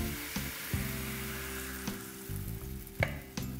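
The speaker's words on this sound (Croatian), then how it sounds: "Sipamo smjesu tako da prekrije dno tave" Crepe batter poured into a hot oiled pan gives a steady sizzle and frying hiss, with a few soft knocks and clatters from the pan along the way, close and fairly quiet.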